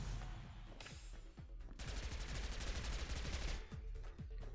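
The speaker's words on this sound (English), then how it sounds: "I kind of want to see how many bullets this thing has. The fire rate's insane." Rapid, relentless gunfire from a high fire-rate weapon in the game Neon Abyss, dense overlapping shots with bright crackling bursts over a busy game soundtrack, loudest through the middle then easing off.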